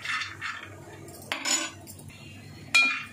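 Makhana (fox nuts) roasting in a pan, heard as a few light clinking and scraping strokes of a utensil against the pan in short bursts, fairly close, with quiet gaps between.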